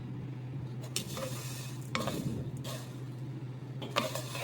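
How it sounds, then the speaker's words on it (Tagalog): Browning food sizzles in a pan while a utensil stirs it, giving soft continuous frying hiss broken by periodic scraping strokes against the pan roughly once a second, close and fairly quiet. "Yan, halo-halo para hindi masunog."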